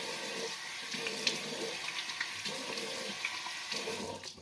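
Tap water runs steadily into a sink while a face is being rinsed during a skincare routine, with faint splashing from hands and no talking.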